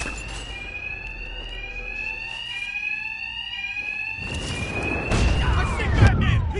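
Alarm bells ring steadily in a Batman video game during a robbery, a layered electronic tone with rising and falling pitch sweeps and a louder burst of noisy impacts near the end.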